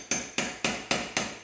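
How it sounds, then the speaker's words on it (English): Five evenly spaced, sharp hammer taps drive a nail punch into wood to start a screw hole, each crisp strike close and ringing briefly before the next. "So I'm going to start it with a nail punch so we can get this screw in there pretty easy."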